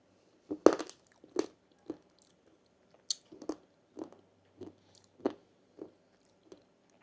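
Close-up bites and chewing of homemade keto ice cream with chocolate chips, about a dozen separate crunchy, wet chews in an uneven rhythm against near silence, with no talking.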